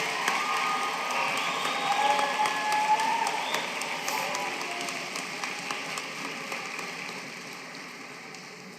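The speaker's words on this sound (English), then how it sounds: "Can we have one more round of applause for our grad class of 2026?" A graduation ceremony crowd claps for the graduating class of 2026, a dense wash of applause with a few cheers that starts strong and slowly fades over several seconds.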